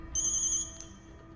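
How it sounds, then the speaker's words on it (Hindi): An electronic phone ringtone plays in a Hindi-dubbed action movie scene, a bright, close, high chirping tone lasting about half a second, followed by a short fainter blip. "मुत्तू का फोन है"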